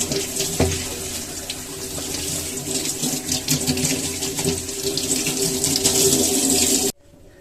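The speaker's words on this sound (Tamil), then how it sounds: "வாழையில கிளீனா வாஷ் பண்ணிட்டு கொஞ்சம் தண்ணி உதறி எடுத்துடலாம்" A kitchen tap runs steadily as banana leaves are rinsed beneath it, a close, loud splashing hiss with uneven spatter from the leaves, cutting off abruptly near the end.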